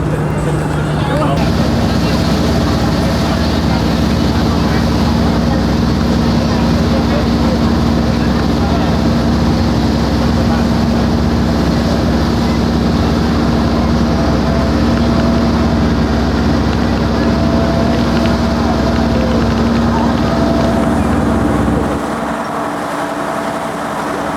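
A passenger boat's engine drones loud and steady on the crossing to Ko Sichang, with a continuous low hum and broadband wash of water and wind that drops away near the end.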